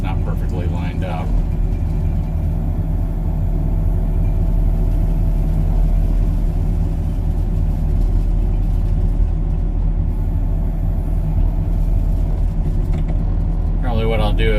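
A tractor engine runs steadily at a pond dig, a loud constant idling drone filling the whole stretch, with a person's voice briefly at the start and end.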